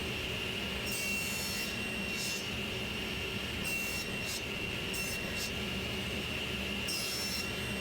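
A saw cuts wood pieces to size on a shop-made sled, a continuous loud machine roar with a thin whine running underneath, holding steady from start to finish.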